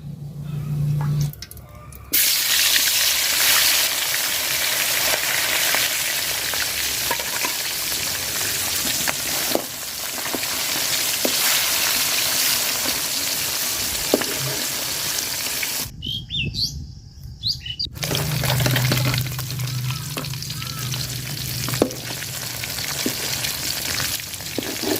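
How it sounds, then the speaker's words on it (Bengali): Bata fish frying in hot oil in a heated pot gives a loud, steady sizzle that runs almost unbroken, with one brief dip partway through. "তেল দিয়ে দিলাম মাছ ভাজার জন্য।"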